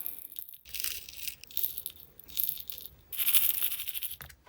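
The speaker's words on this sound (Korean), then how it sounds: "돔캡에 컬러풀 주사위들 넣어주고 비눗방울 파츠들" Small colorful dice clatter and rattle into a plastic dome cap in several bursts, close and crisp, with quiet pauses between.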